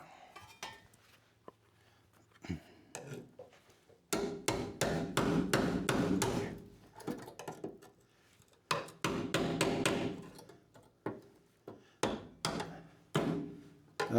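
A hammer beats on rusty sheet metal of a 1978 Ford Bronco during rust repair with a custom patch panel, sounding as sparse taps at first and then long bursts of rapid, loud, ringing metallic blows with brief pauses between.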